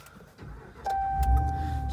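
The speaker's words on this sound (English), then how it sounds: "Getting into the truck now and starting her up." A 2019 RAM 1500 pickup starts up: a quiet click, then the engine catches at once and settles into a steady, close idle with a faint chime tone above it.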